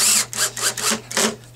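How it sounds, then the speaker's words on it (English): Power drill with an Allen bit driving screws into a speaker during a woofer and midrange replacement, its clutch slipping in a series of about five short, loud ratcheting bursts over a steady low motor hum. "you can hear the clutch working there"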